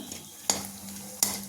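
Cashews roasting in a pan make a faint, steady sizzle, broken by two sharp clinks of a utensil against the pan about three-quarters of a second apart.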